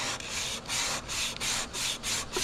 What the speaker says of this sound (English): you can see already there, just a moment of sanding there